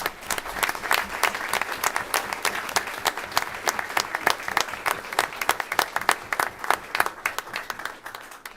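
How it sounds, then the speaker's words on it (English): A school board meeting audience gives a sustained round of applause for students after a great season, with a close, crisp patter of many hands clapping steadily and unevenly for several seconds, without speech. "So round of applause for them."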